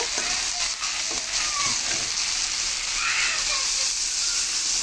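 Eggplant and potato curry frying in a pan, a close, steady sizzle with stirring scrapes as water goes into the hot oil, the hiss continuing loudly without speech.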